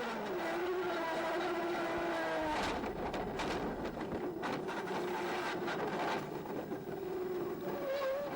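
Gerhard Berger's 1989 Ferrari F1 car, heard from onboard as it approaches a chicane, gives a continuous engine scream with pitch that falls and rises through downshifts and braking, then climbs again as it reaccelerates.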